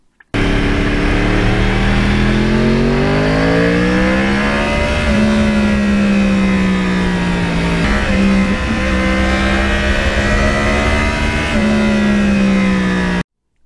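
A Yamaha R1 crossplane motorcycle engine revs steadily and loudly up close, its pitch rising and falling in several smooth sweeps over a sustained, uninterrupted drone.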